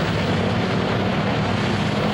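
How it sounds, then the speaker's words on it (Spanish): Propeller warplanes taxiing along an improvised runway before takeoff with full fuel tanks, a steady, dense roar of engines and airscrews filling the air without a break, loud and close. "Los aviones recorrían la pista improvisada, preparándose para despegar con los tanques llenos de combustible."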